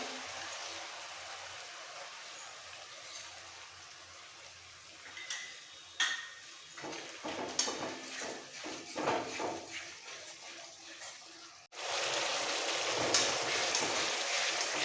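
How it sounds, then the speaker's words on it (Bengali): Whole cumin paste and spices sizzle while being sautéed in a pan, a soft hissing fry with scattered ticks and stirring scrapes, then a sudden louder, steady crackling sizzle near the end; no one speaks. "সব মশলা একসাথে ভালো করে কষিয়ে"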